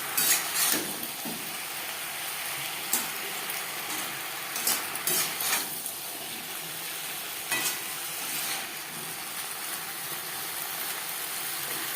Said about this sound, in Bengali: আলুর সাথে বেগুন ভাজবো হাই টু মিডিয়াম ফ্লেমে